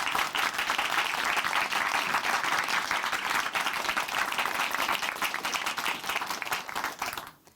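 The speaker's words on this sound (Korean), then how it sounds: "춘천 한마음교회 김보혜 자매님 박수로 모실게요." A church audience at Chuncheon Hanmaum Church applauds to welcome a speaker, dense steady clapping from many hands that holds throughout and then fades out abruptly at the end.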